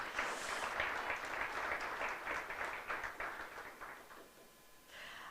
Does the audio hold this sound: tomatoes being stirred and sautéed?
no